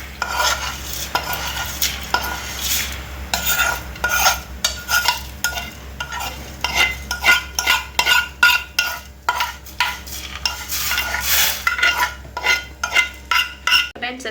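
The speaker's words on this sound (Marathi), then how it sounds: "एक सायडीन हांवें दूद गरम करून दवरलें, सो आतां हांव तें तितून घालता" A spoon stirs hot milk into sewaiya vermicelli in a metal pan, producing loud, close, rhythmic scraping and clinking strokes that speed up into a steady back-and-forth beat, with no speech.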